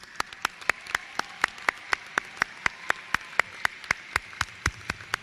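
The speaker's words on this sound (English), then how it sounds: "please stand and receive our applause" Evenly spaced sharp claps ring out at a commencement ceremony, a steady rhythm of about four per second over a faint room hush, crisp and close rather than a dense crowd roar.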